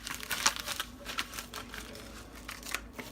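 A plastic package of carbide go-kart parts is cut open, giving short crinkling and crackling bursts of packaging close up, quiet and irregular.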